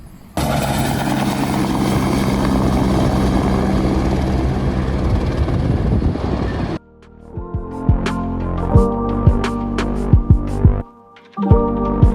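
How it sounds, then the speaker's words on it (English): Helicopters flying toward Fox Glacier in New Zealand for a glacier heli-hike, a loud steady rotor and engine roar for about six seconds, then cutting to quieter clattering knocks and thuds with a brief silent gap. "We're gonna take these helicopters all the way to Fox Glacier, and we'll hike up there."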